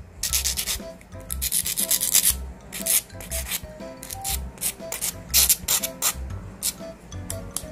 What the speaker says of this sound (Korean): 요런 거는 약간 갈아서 내 손톱에 맞게끔 먼저 작업을 해주시고요